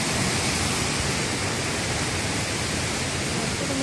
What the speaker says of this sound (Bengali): আর ঝর্ণার জলগুলো যে এত জোরে জোরে পড়ছে সেগুলোই মানে সব জায়গায় ছিটকে ছিটকে আছে